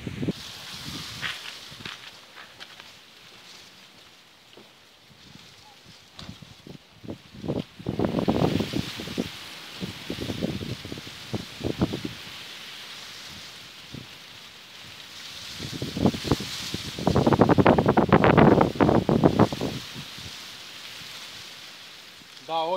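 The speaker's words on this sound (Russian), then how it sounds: "Да, очень сильный ветер." Strong gusty wind beside a winter ice hole comes in loud, rushing bursts that buffet and rustle, easing between gusts before surging again.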